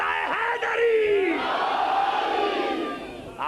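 Crowd at a Shia majlis gathering chanting the Naara-e-Haideri slogan, a massed roar of voices rising and sustained for a few seconds with a sliding shouted call through it.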